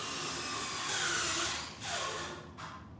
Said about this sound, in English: he's sawing down there